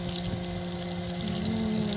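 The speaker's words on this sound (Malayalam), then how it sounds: "അപ്പം നമ്മുടെ പയറിന് നമ്മൾ വെള്ളം ഒഴിക്കുകയാണ്" Water is poured onto bean plants on a farm in a steady splashing stream, quiet and close, running on without a pause and with a faint hum beneath it.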